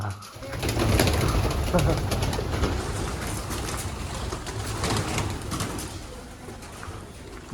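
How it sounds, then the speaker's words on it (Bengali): Pigeons coo and flutter nearby at an outdoor spot during a rice-feeding ceremony outing, a steady murmur of birds with crowd noise and some talk in the background. "এখানে দেখো কত পায়রা।"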